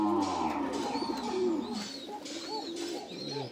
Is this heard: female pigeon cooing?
yes